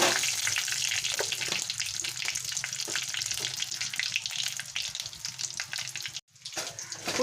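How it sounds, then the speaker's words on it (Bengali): Panch phoron and dried red chilli frying in hot oil, a continuous close crackling sizzle with faint stirring, briefly cut off near the end before resuming. "5 ফোড়নটা ভালো করে আমি ভেজে নেব"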